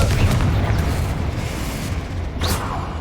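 A Confringo fire spell bursts in Hogwarts Legacy, a loud, rumbling blast with heavy low-end boom that rolls on continuously, with a brief sharper whoosh flaring late.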